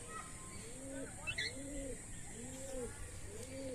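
Pigeons coo in a repeating, rhythmic series of soft low calls near a rooftop, faint against a light outdoor background with a few higher chirps.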